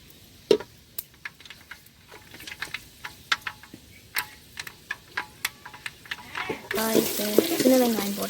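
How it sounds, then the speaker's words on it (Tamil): Small onions (shallots) sautéing in oil with fenugreek for a fish curry: scattered soft sizzles and light stirring clicks, then a louder burst of frying near the end. "சின்ன வெங்காயம் போட்டாங்க, போட்டு வதக்கிட்டுருக்காங்க"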